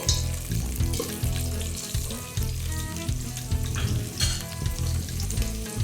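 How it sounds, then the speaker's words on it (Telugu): Green chillies and a tempering of spices fry in hot oil in a pan, giving a steady close sizzle with occasional stirring scrapes and no talk over it. "చూడండి, పోపు అంతా కూడా వేగిపోయింది."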